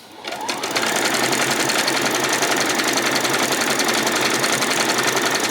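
A sewing machine runs a zigzag stitch around the hem of a peasant skirt, starting up and then buzzing continuously and loudly at close range for several seconds without pause.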